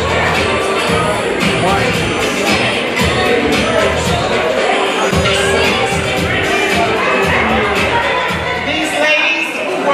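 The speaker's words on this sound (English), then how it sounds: "How about a nice round of applause for the 2024 Major Reg in the house" Crowd at a high school alumni basketball reunion and pep rally in a gym, loud continuous cheering, applause and hubbub filling the space from start to finish.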